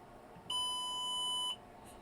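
A single steady electronic tone from a small speaker wired to a Raspberry Pi Pico in a homemade Operation-style game, lasting about a second, sounding clear and close against a quiet background.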